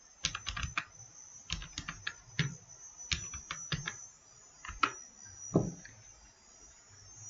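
Typing on a computer keyboard while entering a command to create a LIDAR dataset: close, quick bursts of key clicks with short pauses between runs, ending in a few heavier taps.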